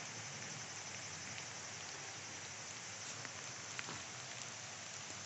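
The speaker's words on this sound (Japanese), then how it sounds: "今日も始まりは雨です。" Steady rain falls outdoors along an old highway route, a continuous broadband hiss of drops with occasional louder taps on nearby surfaces, even and unbroken throughout.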